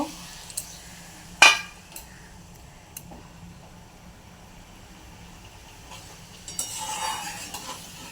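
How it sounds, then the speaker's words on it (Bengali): Spice water goes into a hot pan of rohu fish curry with fried tomato, salt and sugar, giving a faint sizzle and hiss that swells near the end after a few scattered clinks of utensils. "মশলার জলটা দিলাম, আর একটু জল দেব আমি"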